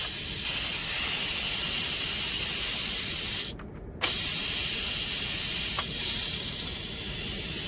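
An Instant Pot pressure cooker vents steam on quick release, a loud continuous spraying hiss that holds steady for several seconds, briefly cuts out, then resumes just as strong.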